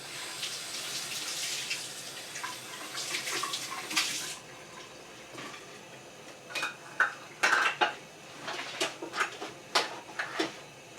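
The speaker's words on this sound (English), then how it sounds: "And start stirring." Metal spoon scraping and clinking against a pot while rice pudding is stirred over low heat, a steady soft scrape first, then a run of sharper, irregular clinks close by.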